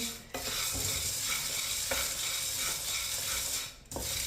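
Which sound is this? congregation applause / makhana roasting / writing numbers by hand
makhana roasting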